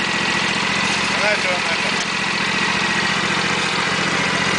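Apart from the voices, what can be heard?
Husqvarna CTH 224T garden tractor engine idling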